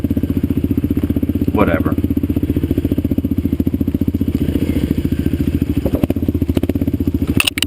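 A Kawasaki KLR650 rides a power line trail with a steady, close engine drone and rhythmic thumping. Someone talks over it for most of the stretch, and there is a brief clatter near the end.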